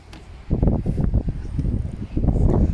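Heavy wind on a boat buffeting a microphone in rumbling low gusts that surge and ease, fairly loud and close, with no clear other sounds.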